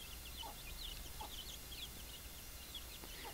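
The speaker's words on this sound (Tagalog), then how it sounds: "So ito mga native ito ng mga manok." Native chickens cluck in short repeated calls at a middle distance, a few clucks rising over steady outdoor background noise.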